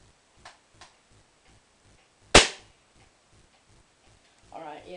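A single loud, sharp shot from a CYMA AK47 airsoft gun, fired from about 15 feet away, stands out against steady faint ticking and a few softer clicks.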